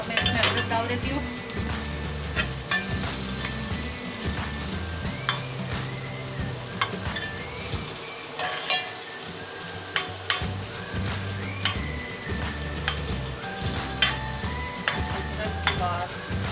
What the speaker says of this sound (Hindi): अब मैं इसमें अदरक डाल देती हूँ।